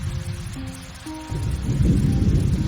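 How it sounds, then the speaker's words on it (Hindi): Heavy rain roars steadily with a deep rumble building underneath, a brief tonal hum fading early on. "शाम होते होते तेज बारिश शुरू हो गई।"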